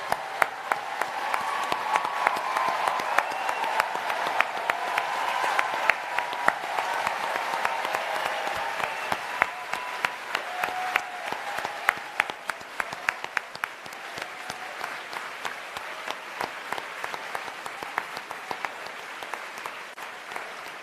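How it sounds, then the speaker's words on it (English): A large audience applauding at the British Book Awards, sustained clapping from a crowd that is fuller at first and thins to scattered individual claps later, with faint voices underneath. "We would like to give you all a round of applause."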